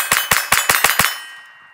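Five or six sharp metallic clacks from the slide of a Taurus G3C pistol being smacked hard, evenly spaced at about a fifth of a second apart, close and loud, with a ringing tail fading after the last hit.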